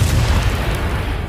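A deep, rumbling explosion boom in the video game Batman: The Enemy Within, loud and sustained with low rolling debris noise throughout.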